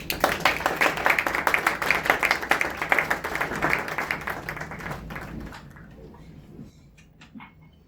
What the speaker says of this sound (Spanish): Le recibimos con un caluroso aplauso.